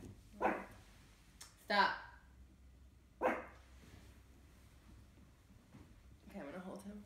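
A small Pomeranian barks in several sharp, loud bursts spaced a second or so apart, close by indoors, with a person speaking briefly between the barks.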